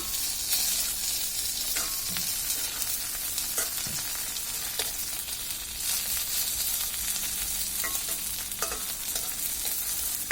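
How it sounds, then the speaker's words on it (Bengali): Dried fish patties (chapa shutki bora), just flipped, sizzle in hot oil with a continuous close crackle, punctuated by occasional utensil scrapes and stirring clicks. "আরেক পাশ উল্টিয়ে দিচ্ছি"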